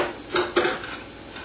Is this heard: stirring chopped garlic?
yes